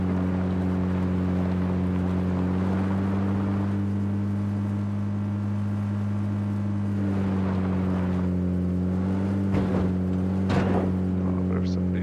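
Steady engine drone of a vessel or vehicle running continuously, a strong low hum with even harmonics holding throughout, with brief louder knocks and shifts near the end.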